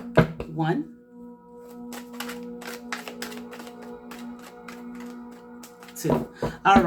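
Tarot cards are shuffled in quick, crisp riffling bursts of papery clicks over a low steady hum, with a voice talking briefly at the start and again at the end.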